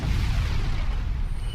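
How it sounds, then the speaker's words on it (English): Rope-bound barrel exploding from fire in Dark Souls 3, a loud, deep, rumbling boom that fills the whole short moment and stays heavy in the low end with no talk over it. "The barrels there with the rope around them and stuff, they explode if you hit them with fire."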